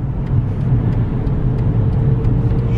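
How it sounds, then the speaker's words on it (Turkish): Naturally aspirated Mercedes car fitted with a VGT turbo climbing a ramp under light throttle, a steady loud low engine rumble and road drone heard from inside the cabin with no voices. "Şu an hafif bir gaz temasıyla araba şaha kalkıyor. Ve rampa tırmanıyoruz."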